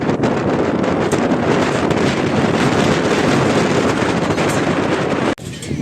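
Steady, loud rushing roar from riding in an open tourist vehicle on the way to the Ellora caves, wind buffeting the microphone continuously with a brief dip near the end.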